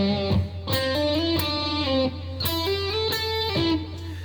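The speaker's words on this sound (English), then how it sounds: "you're going to learn this intro riff, which should sound something like this" Electric guitar plays the intro lead riff, a melodic line of sliding, sustained notes repeating in phrases over a steady low tone, clear and close with no talk.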